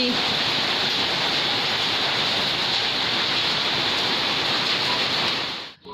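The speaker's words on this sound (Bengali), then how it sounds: "ঝমঝম করে বৃষ্টি পড়ছে" Steady, dense roar of heavy rain pouring down continuously and close by, cutting off abruptly at the very end.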